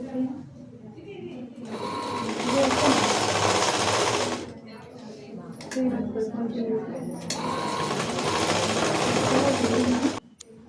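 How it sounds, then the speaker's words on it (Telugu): A sewing machine stitches the hem strip on the back of a blouse in two long, close bursts separated by a pause, while someone talks over and between the runs. "హెమ్మింగ్ పట్టీ ఉంది కాబట్టి ఇక్కడ దాన్ని కూడా లోపలికైనా ఒక కుట్టు వేసుకోవాలి"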